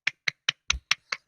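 A single person claps their hands together in imitation of applause, six sharp, evenly spaced claps about a fifth of a second apart, close and fairly loud with nothing else around them.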